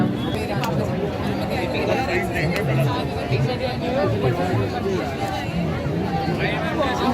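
Dense crowd chatter fills Lajpat Nagar Central Market, a continuous babble of many overlapping voices close and all around, steady and loud with no single voice standing out.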